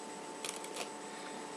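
A deck of playing cards riffles through a false shuffle in a few quick, soft, crisp bursts, close and quiet, with no talking.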